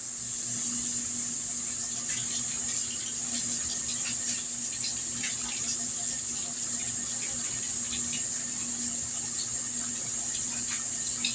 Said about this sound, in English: We're gonna add a cup of hot water.